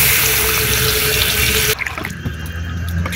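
Water pours loudly into a pot of cooking chicken curry, a dense gushing stream that stops abruptly, followed by gentle bubbling and faint clinks.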